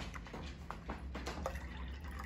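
Liquid drips and trickles into a measuring cup in quick, faint splashes and small irregular drops over a low steady background hum.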